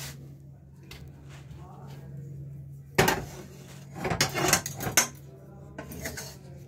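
A cooked lentil mixture is tipped from a pan onto a plate, with metal utensils and cookware clattering and scraping in close bursts over a quiet kitchen hum.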